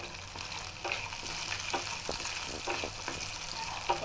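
Cashews and raisins frying in ghee in a pan while being stirred, a steady close sizzle broken by regular scraping and clinking stirring strokes, with no talk.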